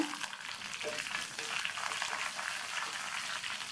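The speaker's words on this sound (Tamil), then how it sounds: "இது எல்லாமே நல்லா வறுபடட்டும்." Cashews, curry leaves and three green chilies fry in a pan for semiya kichadi, giving a steady, close, hissing sizzle with light crackles throughout.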